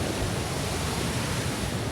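Choke Creek Falls, a waterfall on the Pinchot Trail, roars as a steady broadband rush of falling water, loud and continuous up close with no other sounds.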